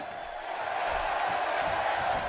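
An arena crowd in the wrestling video game WWE 2K17 makes a continuous, fairly loud roar that swells slightly after the first half second and then holds steady.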